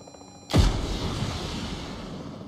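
A single heavy gunshot or blast in PUBG Mobile payload mode, booming out sharply and then trailing into a long rumbling decay, with no one talking.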